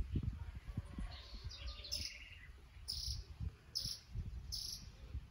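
Several bananaquits (sibite) call during a bird-catching outing, giving short high chirps and bursts of song at moderate distance over a low rustling, insect-like background.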